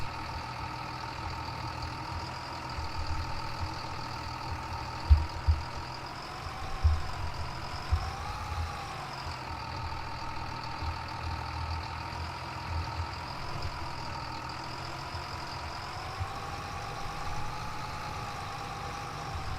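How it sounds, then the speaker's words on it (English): A steady engine idles at a low, even rumble for the whole stretch, with a few small knocks and bumps rising briefly over the drone. "the sound of this tractor sounds just like my dad's truck"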